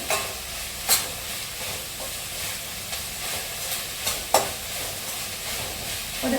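Sliced onions frying in a pan for a homestyle duck curry: a constant near hiss and sizzle with a few distinct spatula knocks and scrapes spaced through it, no talking.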